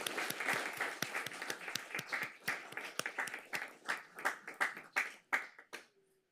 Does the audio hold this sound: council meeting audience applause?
yes